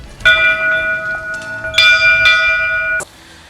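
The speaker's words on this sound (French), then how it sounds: "Alors ça c'était la cloche lorsque les invités arrivaient" Château bell once rung for arriving guests, struck three times with bright ringing tones that each sustain and overlap before cutting off abruptly, loud and close in a quiet interior.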